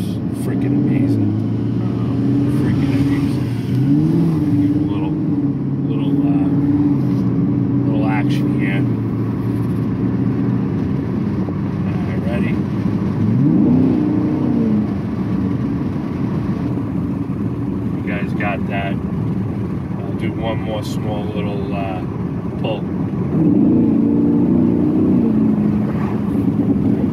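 A deep V8 exhaust on a 2020 Chevrolet Camaro SS rumbles and revs continuously up close, rising and falling in pitch with crackly overrun as the throttle lifts.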